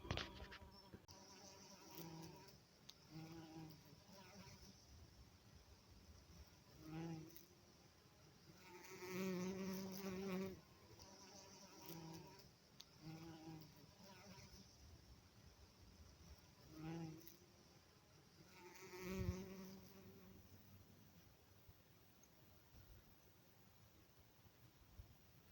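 A bee buzzes among flowers in a bright garden, its drone rising and falling in several short swells as it moves about nearby, fairly quiet and with no talk.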